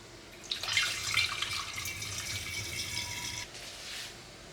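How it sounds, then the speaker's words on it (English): Home-brew liquid pours steadily into a fermenting vessel with a bright splashing rush that lasts a few seconds, then trickles off. "I'm going to pour it into the vessel anyway."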